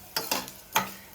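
Mustard seeds sizzling in oil while making moringa leaf spice powder, heard as two or three short bursts of crackling and spatter with quiet pauses between.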